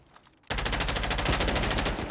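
Rapid automatic gunfire from an Uncharted 4 multiplayer match bursts in abruptly after a brief quiet start, a steady fast-rhythm stream of loud, close shots continuing to the end with no talk over it.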